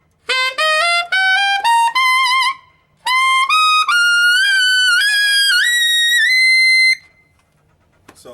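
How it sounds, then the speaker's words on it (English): A tenor saxophone climbs a four-octave D blues scale into the altissimo range. The notes are loud, clear and close, in two runs split by a short breath, with no talking. "So that's a 4-octave D blues scale."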